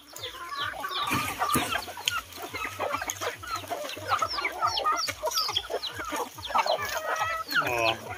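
Several farm chickens cluck and chatter nearby in a busy rural farmyard chorus in the Philippine countryside, with a faint rooster note mixed in.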